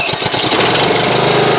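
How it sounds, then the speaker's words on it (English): A Honda HRX217HYA walk-behind lawn mower engine catches and starts, a few uneven bursts settling quickly into a steady, loud, close running drone. "Watch how easy this starts."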